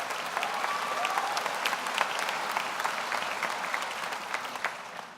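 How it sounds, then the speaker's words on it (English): Applause at a university architecture commencement ceremony. A large audience claps in a dense, sustained roll with scattered sharper claps, heard from a middle distance with no speech over it. "Every year we try to hold the applause to the end, but we're incapable of it."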